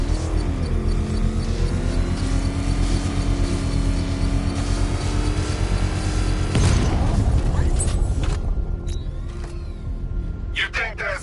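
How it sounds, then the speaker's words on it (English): A controlled bomb explosion in the video game Batman Arkham Knight, set off with a power winch at a canal, erupts as a loud broadband blast midway through, over steady game engine rumble and a voice. "I can use the power winch to trigger a controlled explosion."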